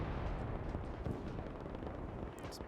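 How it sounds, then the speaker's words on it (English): Dull explosions boom repeatedly on the left flank of a World War II battle in the Gates of Hell video game, a dense, rumbling barrage during a rocket artillery bombardment, heard at moderate loudness without speech. "Many explosions still happening there on that left flank."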